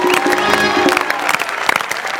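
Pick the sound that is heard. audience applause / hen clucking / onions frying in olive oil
audience applause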